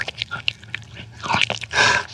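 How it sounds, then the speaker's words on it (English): Child chewing Funyuns snacks: close, wet crunching and munching in quick irregular bites, building to a louder crunchy burst at the end. "The sound that you were hearing is Gracie chewing on Funyuns"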